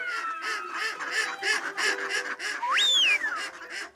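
Ducks quack in a steady rhythmic series at Baie de Somme, the calls overlapping in a busy outdoor chorus. Near the end, a single bright rising-and-falling whistle cuts through.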